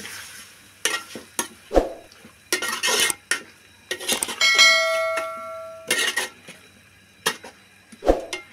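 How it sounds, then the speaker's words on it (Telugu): Cucumber mutton curry being stirred in a metal cooking pot, with a spoon clanking and scraping against the sides in several separate bursts, plus one sustained ringing metallic tone; close and fairly loud, with no voices. "ఈ దోసకాయ వేసుకున్న తర్వాత ఒకసారి బాగా కలపాలండి"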